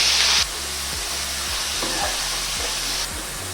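Spices and onion sizzle in hot oil, with cinnamon, cumin, ajwain and asafoetida in the pan; a loud hiss opens, then a steady frying crackle continues with soft stirring scrapes and no talking.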